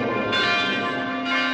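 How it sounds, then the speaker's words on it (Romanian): Church bells ring steadily near Cașin monastery during a Sunday service, a dense, sustained metallic peal heard up close with no talking. "Suntem lângă mănăstirea Cașin, slujba duminicală, auzim și clopotele acum."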